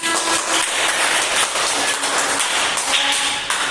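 Students clapping in a classroom during a practice civics lesson, steady dense applause from a small group at close range, with no voices over it.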